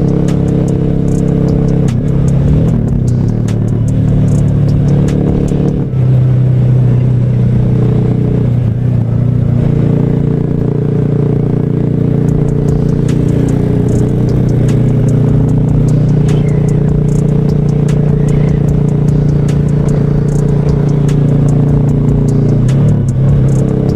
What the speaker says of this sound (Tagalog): mukhang nagloloko itong motor natin ha